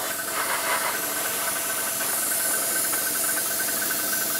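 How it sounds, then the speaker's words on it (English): An air compressor for a model airbrush, used on a 1/35 Hobbyboss Merkava Mk 3 LIC kit, runs with a constant steady hiss and low mechanical hum throughout, with no breaks and no talk. "I haven't put my compressor on, have I?"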